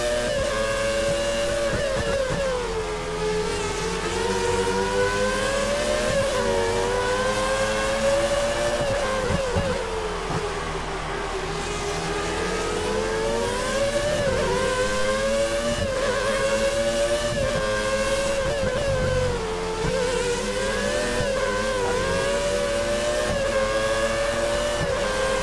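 A Formula 1 race car engine in F1 2013 screams steadily up close at Catalunya, its high-pitched whine rising and falling through gear changes and throttle shifts, alone without talk.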